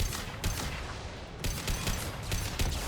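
Mass Effect 2 gun turrets fire rapid bursts of shots, a dense crackling fusillade in repeated volleys at moderate distance, fairly quiet overall.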